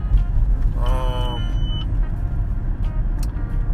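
A single electronic warning tone sounds briefly inside a car over a steady engine and road rumble.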